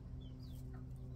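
Chickens kept at home cluck softly and briefly over a low, steady background hum, a couple of short faint calls heard at a modest distance.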